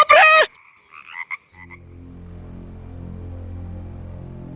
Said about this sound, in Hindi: इसी बीच एक दिन कुएं से पानी निकालते समय बाल्टी में एक मेंढक आ गया।